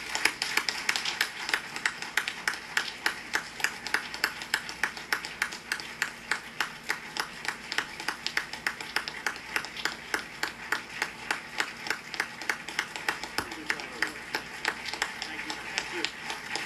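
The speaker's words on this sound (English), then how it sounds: "Can we give Bob Mueller and Ann one more big round of applause?" An audience claps for an FBI director nomination, producing a long run of sharp, evenly spaced claps at moderate distance that keep a steady rhythm throughout.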